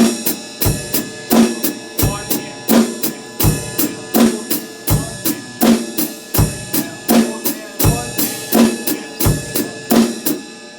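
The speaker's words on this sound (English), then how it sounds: "we play eighth notes in the hi-hat" A drum kit plays a steady groove with quarter notes on the ride cymbal and eighth notes on the hi-hat, with regular bass drum and snare hits punching through the loud, even pattern.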